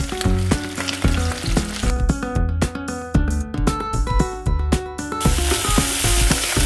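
Seafood shells frying with salt in olive oil in a pot, a loud continuous crackling sizzle with rapid clattering knocks of a utensil stirring and pressing the shells, close up.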